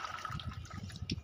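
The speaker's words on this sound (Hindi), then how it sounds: "खाली इनमें डाल देते हैं हम पानी।" Water is poured into plant pots, a short, faint splashing trickle heard up close.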